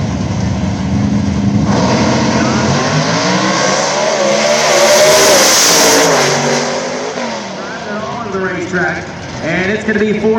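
Pro drag racing 2015 Chevrolet Camaro with a John Kazi racing engine and nitrous or boost, roaring as it accelerates down the strip, loud and rising, with an announcer talking over it.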